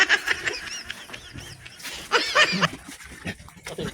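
A pig squeals and grunts while being slaughtered, rough high cries in short bursts close by, with people talking in the background.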